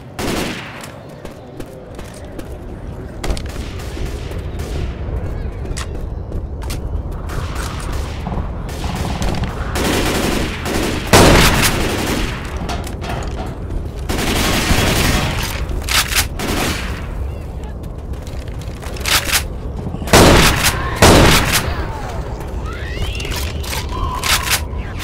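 Heavy booming shots from a custom Winchester Model 1897 shotgun in Left 4 Dead 2, spaced blasts with racking and reload noises between them over a loud, busy game backdrop.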